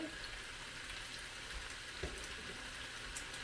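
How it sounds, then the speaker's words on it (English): Steady broadband sizzle of a salmon patty frying in a hot pan, a constant crackling hiss with a brief louder pop near the middle. "You can see how that's sizzling away now"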